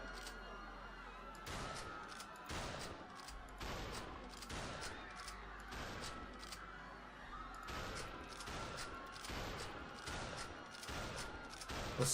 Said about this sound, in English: The shotgun is loaded with bullets.